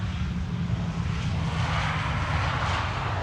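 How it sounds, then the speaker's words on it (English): A Transavia passenger jet arriving at Amsterdam Schiphol Airport, its engines giving a steady, loud, broadband roar with a low rumble that holds constant throughout, with no voices. "This is Transavia arriving from Girona"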